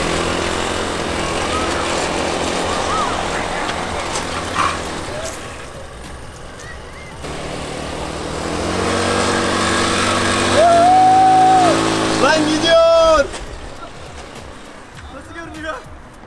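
Homemade one-wheeled motorcycle with a small engine running, its steady drone rising in pitch toward the end as it revs harder, then cutting off; voices talk over and around it.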